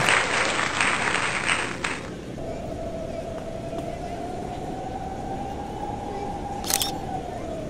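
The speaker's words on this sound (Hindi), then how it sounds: "आज इस नूरजहां के लिए एक बार जोरदार तालियों से आप स्वागत करें" Audience applause welcoming a fast-painting artist at a live event, loud broadband clapping for about two seconds that gives way to a steady sustained tone with background noise, then a brief burst near the end.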